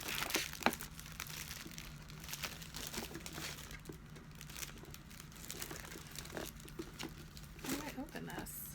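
Plastic packaging around a Nu Skin ageLOC LumiSpa skin cleansing device crinkles and crackles as it is worked open, an uneven run of soft rustles and snaps heard faintly throughout.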